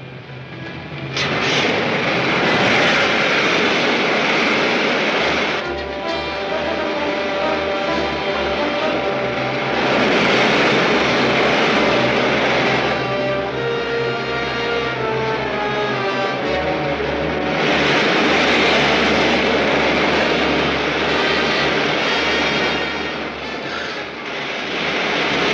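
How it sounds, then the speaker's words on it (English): A rocket ship's main jets fire in an old 1953 science-fiction serial, a loud, continuous roaring rumble with surging swells and a steady whining tone running through it, heard alone without voices. "Firing main jets."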